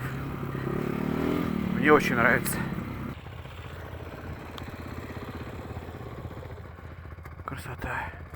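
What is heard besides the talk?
motorcycle engine running and idling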